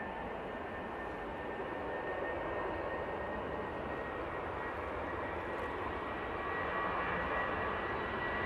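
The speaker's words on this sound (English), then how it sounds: "We've got the Swiss A320 Neo now coming in." A Swiss Airbus A320neo jet comes in at Manchester Airport, its engines a steady, fairly distant broadband roar that holds level with only a faint swell, no talk over it.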